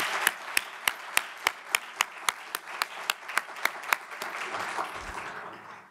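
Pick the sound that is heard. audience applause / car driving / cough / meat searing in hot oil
audience applause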